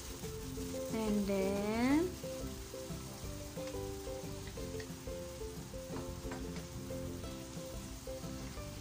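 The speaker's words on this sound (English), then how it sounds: "My pan is already hot. I'll just put it in the pan, guys." Chicken breast for adobo sizzling in a hot pan, a soft continuous hiss running under a short spoken phrase near the start, with a faint low hum in the background.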